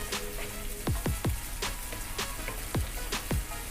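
Onions and curry leaves frying in a pan, a moderate steady sizzle broken by repeated crisp popping crackles in small bursts.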